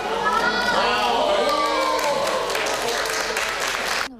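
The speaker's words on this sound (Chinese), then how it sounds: "尖叫欢呼声此起彼落" A large crowd of fans screams and cheers for Prince William during his visit to Japan. The shrill voices are loud and sustained, sound close, and cut off abruptly at the end.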